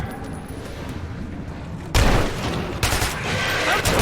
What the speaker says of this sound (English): Shoot them! Shoot them!